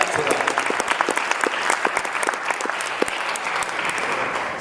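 An audience at a music conference keynote bursts into dense applause, many hands clapping steadily for several seconds before tapering slightly, with no voices over it.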